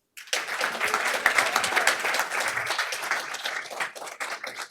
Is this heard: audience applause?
yes